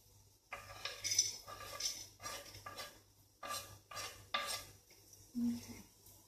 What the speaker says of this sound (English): I'm going to put in the almonds